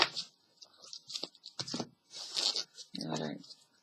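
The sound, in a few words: shuffling Dragon Tarot cards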